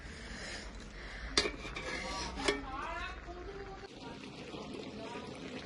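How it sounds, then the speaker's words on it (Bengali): A spoon works through a large, heavy pot of mixed vegetables with roasted cumin and coriander powder, giving a soft scraping, rubbing churn and two sharp metal clanks near the start. Someone talks over much of it. "এটা নাড়াই প্রচুর কঠিন ব্যাপার এতটা জিনিস না"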